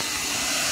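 Hair dryer blowing air into a homemade plaster foundry, a loud, steady, close-up roar that continues without a break.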